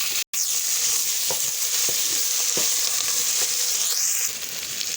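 Green chillies tossed into browned onions frying in hot oil give a loud, close, continuous sizzle with a few soft stirring taps, a brief dropout near the start and a slight dip toward the end, no talk.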